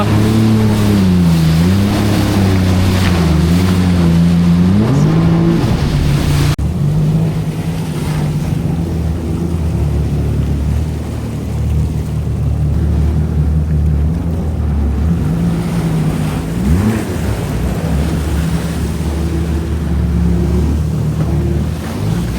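A motorboat engine drones steadily on open water off Dubai, its pitch rising and falling as the throttle is opened, with wind and spray noise throughout.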